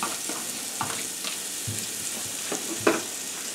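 Onions sizzle in melting butter in a pan while a garlic butter steak pasta is being cooked, giving a steady close frying hiss with a few soft stirring clicks and one sharper knock near the end.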